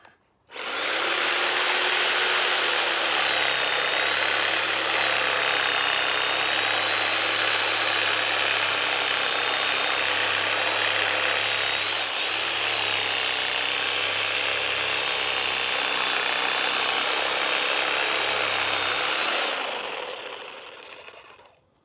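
A Sawzall reciprocating saw plunged below ground to cut off a tree stump, whining loud and close in one continuous, steady burst lasting nearly twenty seconds before it winds down and stops.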